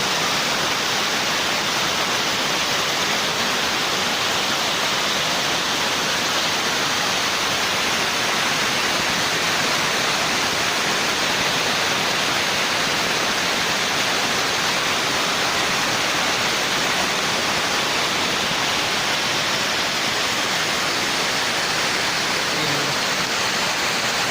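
Constant heavy roar of the Ujung Bidadari waterfall in North Aceh, Indonesia, a broad steady rush of water without pause or voices, loud and unchanging throughout.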